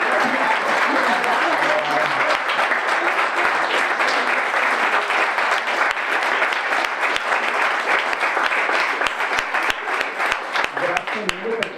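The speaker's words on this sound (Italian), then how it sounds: "facciamo un bel applauso" Sustained audience applause from a crowd at a scout event in Conegliano, Italy, dense and loud throughout with a few individual claps standing out and some voices mixed in.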